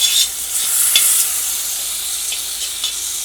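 Chopped tomatoes sizzle in a hot pan while being stirred, a steady hissing fry close by with a few soft scraping stirs and no voices.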